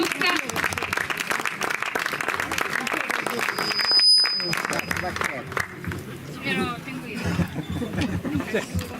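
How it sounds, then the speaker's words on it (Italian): A live crowd claps steadily for Luca Bulla, a young reciter, at an Atzara poetry evening, the applause dense and sustained with voices chattering underneath, thinning out toward the end. "Un applauso a Luca."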